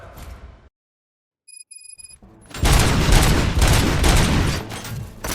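Gunfire in the first-person shooter Robocop: Rogue City, a loud burst of rapid overlapping shots and booms after a brief silence and some electronic beeps, dense and sustained to the end.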